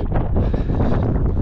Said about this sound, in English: Man, when did that wind get here?